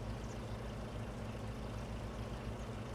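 A tractor engine idles in the Farming Simulator 25 game, a steady low, even rumble that runs unbroken and fairly quiet, with no talking over it.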